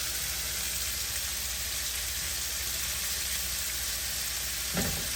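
Shrimp fry in a pan with a loud, continuous, close-up sizzle that holds steady throughout, with a single soft knock near the end.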